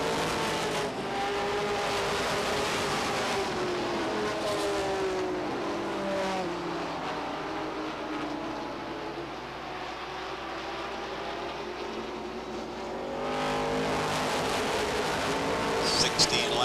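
Race cars circling a speedway track at Beech Ridge Motor Speedway during a 35-lap feature event in 1990, engines droning and shifting in pitch as the pack passes, heard from a distance under a track announcer's commentary.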